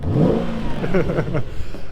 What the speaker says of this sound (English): Hear that V8 engine rev?